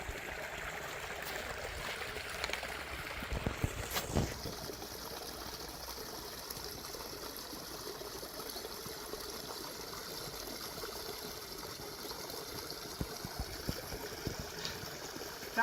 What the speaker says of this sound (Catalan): I la prova és que ara jo veuré aigua.